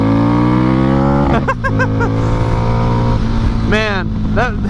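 A Harley-Davidson Street 750 motorcycle revs under throttle in a few quick rising bursts. The engine drone is loud and close, and it sits under steady talk from the rider.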